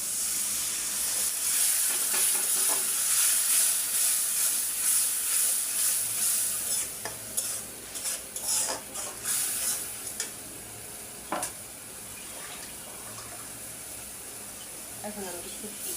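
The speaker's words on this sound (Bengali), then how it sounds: "পেঁয়াজ, রসুন, কাঁচামরিচ, হলুদ, মরিচ, ধনিয়া দিয়ে এখন আমি এটা কষায় নেব একটু।" Onion, garlic, green chilli, turmeric, chilli and coriander sautéing in a pan with a bright, steady hissing sizzle, then stirring scrapes and clatters that thin out toward the end.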